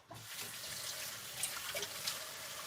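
Water poured from a container onto dry potting soil, a steady, soft splashing trickle running continuously at close range for a few seconds.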